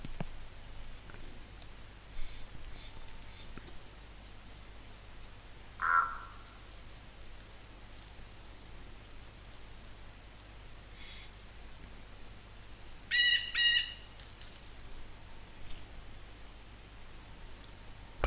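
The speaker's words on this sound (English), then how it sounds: "Enjoy the bird sounds." Birds call sparsely in a quiet outdoor scene in the DayZ video game: a brief caw near the middle and a short burst of chirps later, set against a faint steady ambient hush.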